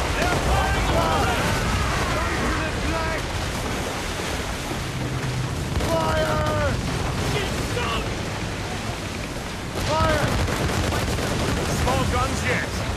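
Naval cannon volleys from warships in Assassin's Creed Rogue boom in dense, overlapping bursts over a constant roar of wind and sea, with shouted voices and game music running underneath.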